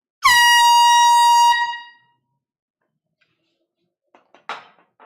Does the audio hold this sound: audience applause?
no